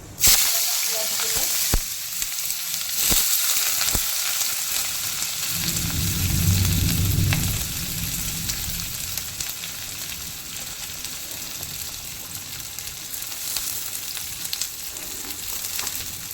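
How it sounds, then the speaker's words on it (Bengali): Whole spices and shahi jeera hit hot oil with a loud, steady crackling sizzle that stays close and continuous throughout, with a brief low rumble in the middle and occasional clicks of a utensil. "আমার তেলটা গরম হয়ে গেছে। এবার আমি যে গোটা ফোড়নে শাহি জিরে, এবার আমি এর মধ্যে দিয়ে দিলাম"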